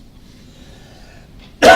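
A single sharp cough bursts out abruptly at a quiet board meeting, loud and close after a stretch of low room hum.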